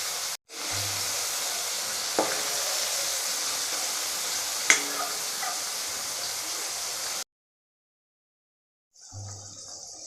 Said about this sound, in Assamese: এতিয়া এই পনীৰখিনি কম জুইত ৰাখি ৰঙচুৱা হোৱালৈকে ভাজি থাকিব লাগিব।